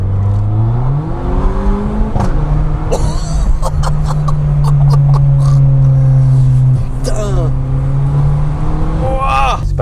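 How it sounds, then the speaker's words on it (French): A Honda Type R engine revs hard with rising and falling pitch, loud and close, with people talking over it. "Eh, chouette bagnole, hein. Avec le bruit de fou."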